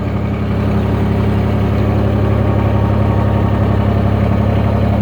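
A 2019 Mahindra eMAX 20 HST cab tractor, 20 hp, runs steadily at about 1,200 RPM, a close, loud and even low engine drone with a constant hum that holds alone throughout.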